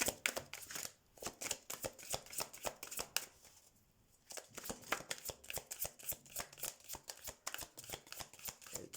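A deck of tarot cards is shuffled by hand in a quiet room, giving steady rapid riffling clicks and flutters that pause briefly midway, then resume, close and fairly soft.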